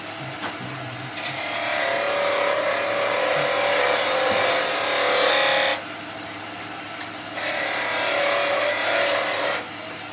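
A skew chisel cuts a spinning wooden workpiece on a lathe, giving two long rasping, hissing passes of shaving wood with a short pause between them, close and fairly loud over a low motor hum.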